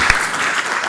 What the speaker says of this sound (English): You're welcome to clap.